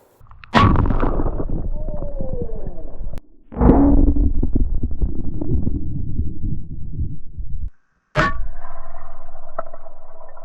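Shotgun slug fired into water, three separate booming blasts, each a sharp crack with a long rumbling, splashing tail, spaced a few seconds apart at close range; no talking.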